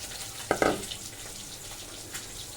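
Chopped onions land in a spiced pan with a couple of quick splashy bursts, followed by a low, steady frying hiss that carries on faintly afterward.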